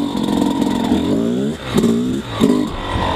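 Dirt bike fitted with a Lectron Billetron Pro 38 carburetor accelerates hard in first gear without the clutch, its engine note climbing in repeated rising revs that dip briefly between pulls, close and loud.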